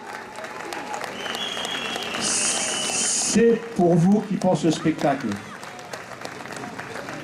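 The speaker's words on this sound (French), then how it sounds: "vous pouvez vraiment les applaudir" Festival crowd in Algrange applauding after the mayor's opening for a concert, a broad clapping wash with whistles, then someone speaking over the fading applause.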